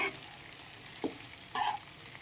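Onions fry in a pan until crispy, a soft continuous sizzle with a couple of short clinks or stirring scrapes, close and alone.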